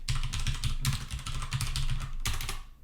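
Rapid clicking of keys on a computer keyboard, close and steady, in uneven bursts of keystrokes with brief pauses between them.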